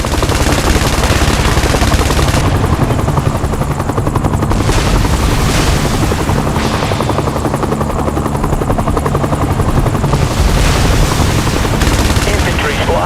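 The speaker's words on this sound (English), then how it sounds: "Copter circling and in the area." Helicopter rotor thumping steadily throughout a military defense game, loud and close, with bursts of machine-gun fire layered over the continuous engine drone.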